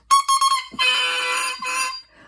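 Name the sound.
double reed crowing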